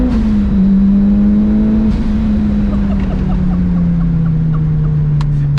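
A Mitsubishi Evo 9 with a Link ECU holds revs on rolling launch control with anti-lag. The engine drone is loud and close and sustained, its pitch sagging slowly, with faint crackles near the end.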